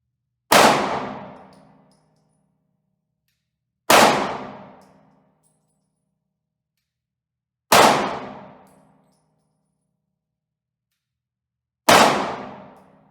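SIG P225 pistol fired at a paper target: four loud, sharp single gunshots spaced roughly four seconds apart, each ringing out and decaying quickly into silence.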